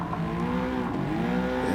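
A race car accelerating out of turns in Gran Turismo 7, a sustained, close engine note rising in pitch through a short stretch of hard revving.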